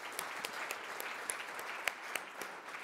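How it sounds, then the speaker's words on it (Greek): Light applause from a conference audience at an agribusiness event, a steady patter of hands with a few sharper claps standing out, fairly faint and without talk. "Νομίζω ότι αξίζει ένα χειροκρότημα στον ΣΕΒΙΤΕΛ."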